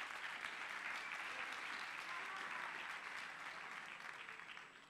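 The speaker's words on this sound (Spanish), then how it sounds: "Un aplauso para él, por favor." Sustained applause from a crowd at an eSports exhibition, steady and fairly loud for several seconds before tapering slightly at the end.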